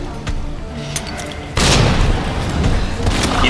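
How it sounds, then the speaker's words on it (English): In-game grenade blast from Resident Evil 2 Remake: a sudden loud booming burst that erupts midway and rolls on as a thick, sustained roar after quieter rumbling and faint clicks. "We are gonna nade this bitch."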